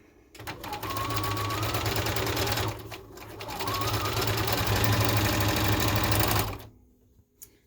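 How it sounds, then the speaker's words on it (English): A sewing machine top-stitches a scrub hat in two close, steady bursts of rapid mechanical whirring, separated by a brief pause, then stopping into near silence. "I'm sewing over that to hold it in place"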